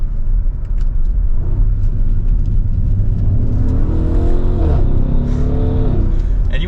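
Audi SQ7 Prestige, 2023, in dynamic mode on a test drive: a steady loud engine and exhaust drone under way, with a rising rev and gear changes near the middle and end, and a voice talking over it.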